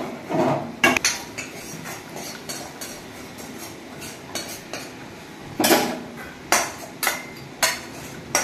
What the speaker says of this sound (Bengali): খিচুড়ির মশলা দিয়ে ঘেটে দেওয়া হচ্ছে।